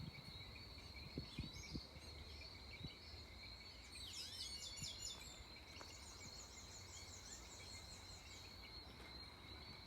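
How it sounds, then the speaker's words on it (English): Constant shrill crickets chirping with birds calling intermittently above them at Gun Hill, St. George, Barbados, an outdoor evening ambience at low volume with no voices. "You can hear the sounds of the birds and the crickets chirping."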